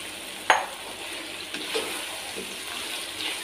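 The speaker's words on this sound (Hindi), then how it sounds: "अब इसमें आलू शामिल करेंगे।" Boiled potatoes go into an eggplant curry cooking in a pan, with one sharp clatter, then soft sizzling and occasional light stirring scrapes.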